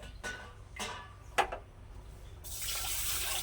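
Water poured over a tablespoon of chana dal to wash it for a jaggery payasam: three brief splashy pours, then a steady hiss of running water from about 2.5 seconds on, close and fairly quiet.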